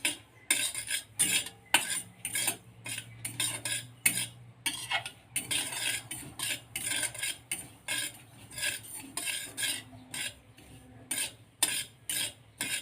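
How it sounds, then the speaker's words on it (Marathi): Poppy seeds dry-roasting in a kadai over a low flame, stirred with a metal spoon that scrapes and taps the pan in quick repeated strokes, close and steady with no talk. "आता बारीक गॅसवरती खसखस पण भाजून घ्यायची आहे"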